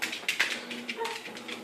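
A dog whimpers and yips in a few short, close, high-pitched cries over about two seconds.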